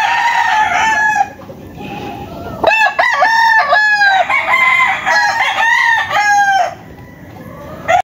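A sweater pumpkin gamefowl rooster crows loudly and close by, with several drawn-out calls in quick succession.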